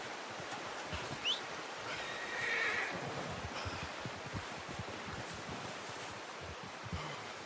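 Horse whinnying in Red Dead Redemption 2, a short faint neigh rising over a constant wash of wind and outdoor ambience, with soft hoof clops and no talking.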